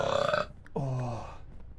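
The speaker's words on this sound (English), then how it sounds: "Another burp." A person lets out a loud, close burp, a deep croaking belch of under a second that follows a brief voiced lead-in.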